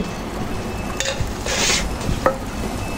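Red amaranth greens are stirred into small fish frying in a pan for chorchori, giving a low sizzle with a few short scrapes and clinks, close and fairly quiet.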